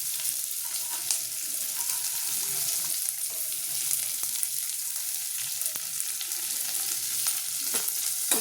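Onions frying in a pan give a steady bright sizzle with occasional light clicks and stirs, close and continuous, with no voices.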